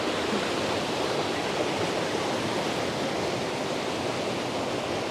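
A powerful waterfall at Plitvice Lakes thunders beneath a walkway, a loud, steady, unbroken roar of rushing water filling the whole space with no voices.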